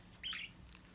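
Pet budgies chirping indoors: a single quiet, short tweet followed by a fainter second chirp over low room noise.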